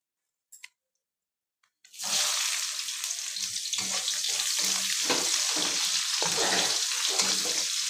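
Onions and masala hit a hot pan and break into a loud, continuous close-up sizzle after a few quiet knocks. The frying hiss holds steady with faint stirring scrapes underneath.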